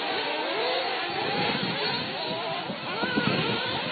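A 2016 XB8 nitro RC buggy with an FX engine and Proline tires screams at high revs nearby, its pitch rising and falling steadily with throttle changes throughout.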